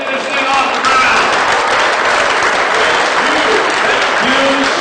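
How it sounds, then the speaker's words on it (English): An audience at a charity auction event bursts into a loud, sustained round of applause, dense clapping filling the whole stretch with crowd noise and voices mixed in. "Give yourself a round of applause and let's get this thing off the ground."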